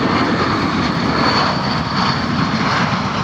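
An airliner landing at Fort Lauderdale airport, its engines roaring loud and steady from nearby for the whole stretch, with no voices.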